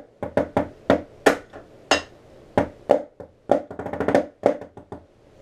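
Drum corps snare playing a seven-stroke roll pattern that ends with a left-hand flam paradiddle: sharp, dry stick strokes and quick clustered rolls in a tight rhythm, close and alone.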